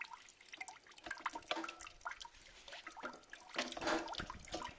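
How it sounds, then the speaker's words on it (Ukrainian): Wet squirting and splattering of grape juice in short bursts as grapes are pressed by hand, with small drips and sprays close by, fairly quiet. "Ось о, стріляє сік, по руках о, струйки виливають."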